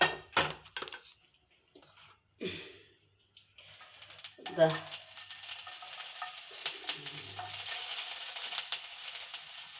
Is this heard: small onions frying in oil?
yes